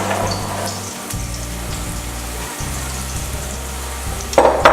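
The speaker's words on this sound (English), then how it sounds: "I would add your summer squash first and kind of let that start to simmer because that's going to take the longest to cook down." Chopped summer squash, gai lan and ginger sizzling in a hot pan, a steady close frying hiss with a low hum underneath and a brief clatter near the end.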